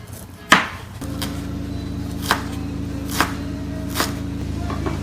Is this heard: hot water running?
no